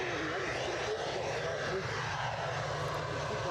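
A Ryanair Airbus A320 arriving at Edinburgh Airport on an inbound flight from London Gatwick gives a steady, moderately distant jet engine roar with a gradual pitch sweep, heard outdoors with no talking.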